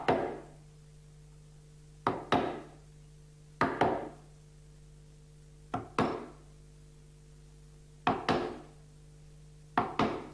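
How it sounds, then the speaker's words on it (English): A chisel tapped into wood along a dovetail marking gauge line, sharp close knocks landing in pairs at regular intervals, each ringing briefly before quiet. "Put the chisel just before the marking gauge line and tap it."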